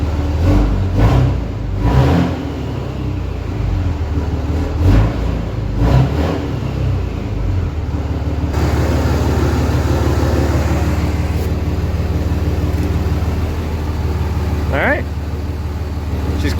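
Car engine running with the intake and one ABS sensor unplugged and the turbo spinning, a steady mid-pitched engine drone with a few revving surges, near and loud, with people talking over it.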